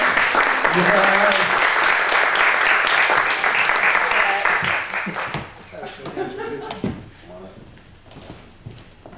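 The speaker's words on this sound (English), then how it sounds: "I'm going to give a round of applause." An audience claps and cheers steadily for several seconds, then the applause fades as voices begin talking nearby.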